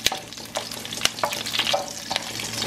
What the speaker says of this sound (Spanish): vamos a empezar por freír los ajos, la canela, la pimienta, la cebolla. Y aquí vamos a estarle moviendo para que se sofrían un poquito